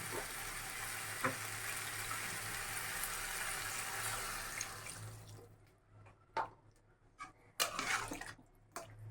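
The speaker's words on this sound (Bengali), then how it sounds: "এখন আমি একটু জল দিয়ে দেবো" Water poured into a pan of frying vegetables with mustard paste, a steady rushing sizzle that fades out, followed by a few faint clinks and stirring scrapes.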